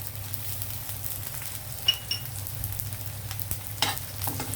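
Mustard and cumin seeds fry in hot oil for a dal tempering, giving a faint, steady sizzle with a few small pops and light stirring clicks.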